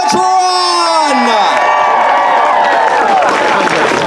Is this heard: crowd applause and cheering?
yes